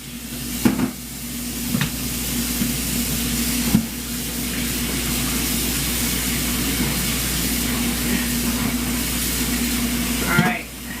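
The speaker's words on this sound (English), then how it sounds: "So we gotta fry this, you guys." Low-carb cabbage bread fries in a pan with a steady, hissing sizzle, and a person talks over it while a few clinks sound.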